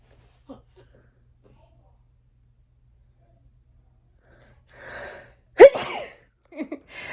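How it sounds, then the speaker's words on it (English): After a long near-silent stretch, a sharp inhale builds into one loud, close sneeze, followed by a few quieter breaths. "I have to sneeze."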